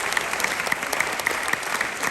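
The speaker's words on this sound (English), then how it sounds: "A big applause for the Manhattan Borough President's team." An audience at a borough president's state of the borough speech at Hunter College applauds, a brief, even patter of clapping from a hall crowd.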